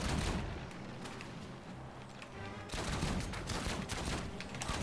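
Rapid sustained gunfire from weapons in the Outcast 2 video game, loud and dense with a continuous rattle of shots and a brief dip before the barrage resumes.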